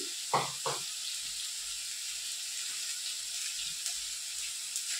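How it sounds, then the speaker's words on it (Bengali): Eggplant fries in hot oil with a steady, fairly quiet sizzle and hiss. A couple of light utensil clinks come early on. "বেগুন অলরেডি ভাজতে দিয়ে দিয়েছি।"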